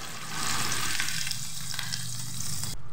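A Peshawari chapli kabab fries in hot oil, a dense, steady sizzle heard up close and fairly loud throughout, with no talking.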